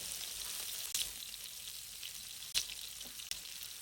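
Chicken kebab sizzles steadily in a frying pan over medium heat, a dense hiss with a few sharp pops and crackles near 1, 2.5 and 3.3 seconds.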